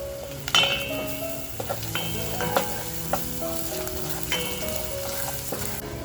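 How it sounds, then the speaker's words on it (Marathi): Garlic and green chili thecha with turmeric sautés in a pan for a village-style mutton vajri masala, giving a steady close sizzle broken by spatula scrapes and occasional metallic clinks, with no talking. "लसूण मिरची अगदी खमंग परतवून झालेली आहे."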